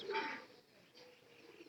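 Pigeons kept by a fancier cooing softly, a short low coo followed by quieter murmuring, faint and close, with no clear talk.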